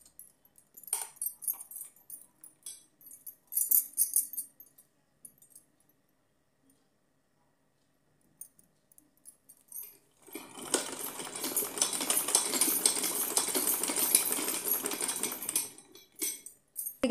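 Sewing machine stitching fabric for a small doll's fancy dress: after quiet handling clicks and rustles, a fast, steady whirring run of stitches lasts about six seconds, close and fairly loud, then stops.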